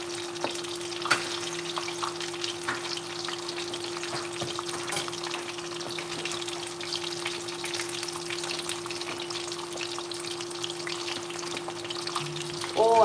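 Food frying in oil in a pot for Escovitch fish and festival, a steady crackling sizzle with intermittent scraping and stirring clicks, a low constant hum beneath, close and moderately quiet throughout.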